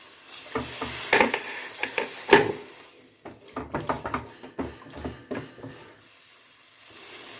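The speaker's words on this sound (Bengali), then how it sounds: "এবার কষে নেব মশলা কষার সময় আমি একটু জল দিয়ে দিচ্ছি" Spice paste with chilli powder is sautéed in a pan with a splash of water for a pumpkin curry, heard as bursts of sizzling and sputtering along with repeated stirring scrapes, loud at times and quieter in between.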